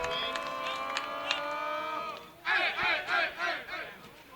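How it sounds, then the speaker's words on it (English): High school baseball crowd at Oakland vs Riverdale cheering and shouting after a run scores, a sustained tone giving way to loud rising whoops and yells from the stands. "And that gets that crowd going a little bit here."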